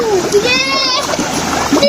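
Children splashing in water while bathing in a Pakistani village, quick sloshing splashes running through the moment, with a voice talking over them close by.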